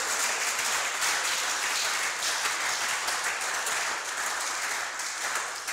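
A church congregation applauds at a Pentecost service, sustained dense clapping filling the room steadily throughout, fairly loud with no pauses.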